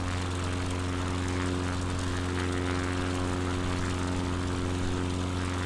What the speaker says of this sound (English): I'm also at full engine power right now.